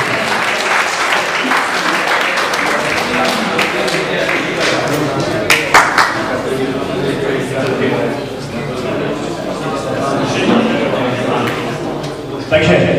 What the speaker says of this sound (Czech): ještě poprosím potlesk pro všech pět mistrů